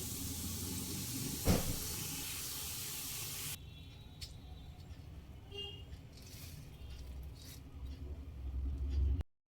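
Colored batter boondi fry in hot oil with a loud, dense sizzling hiss that drops suddenly to a quieter, steady bubbling, with a brief louder burst near the start.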